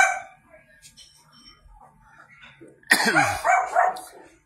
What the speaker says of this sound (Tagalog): Hinahulan na ako ng aso.